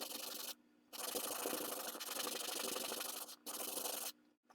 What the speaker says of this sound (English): I'll have to lightly sand them.